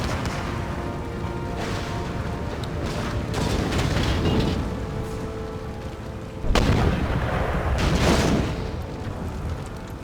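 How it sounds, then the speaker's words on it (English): Howitzers and mortars fire in Empire: Total War, giving a run of rolling booms and blasts over a rumbling battlefield background, with two heavier bursts standing out. "I want to get my howitzers to start firing here with their mortars pinning us down"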